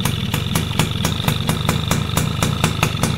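A two-stroke motorcycle engine with its original carburetor idles smoothly, a steady close putter with evenly spaced sharp pulses about four times a second over a low drone.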